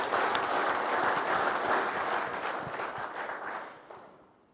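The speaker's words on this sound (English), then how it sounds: "let's give you guys a round of applause" A conference audience at the RTA Connect 2018 opening keynote gives a warm round of applause that starts full and gradually thins out, fading to near silence by the end.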